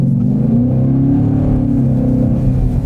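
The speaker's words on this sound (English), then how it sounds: "One of the things that makes the Challenger an absolute winner is the sound of this vehicle." A 2021 Dodge Challenger engine revs loudly and close, a deep sustained rumble that rises and falls slightly in pitch across the burst with no voices.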